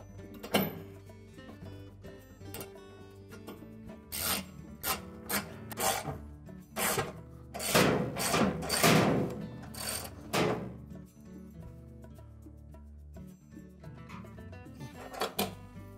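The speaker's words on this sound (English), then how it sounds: "using our ratchet with the short extension and a 3/8 socket, we're going to" A ratchet with a short extension and 3/8 socket tightens bolts on a Whirlpool washer tub, giving short rasping clicking bursts in uneven runs with pauses between them, close and fairly quiet.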